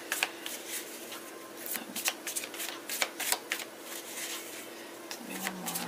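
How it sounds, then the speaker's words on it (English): A tarot deck is shuffled close by in quick riffling bursts, with papery flutters and soft taps repeating unevenly for several seconds. "We're just going to shuffle."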